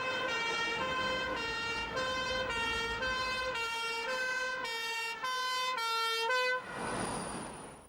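An ambulance-style siren wails close and loud in a steady repeating two-tone pattern for several seconds, then cuts off into a brief rush of traffic noise.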